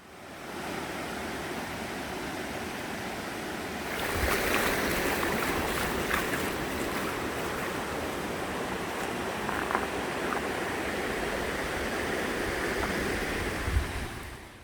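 Water in a mountain valley stream rushing steadily, a broad continuous roar that swells slightly partway through, with no voices.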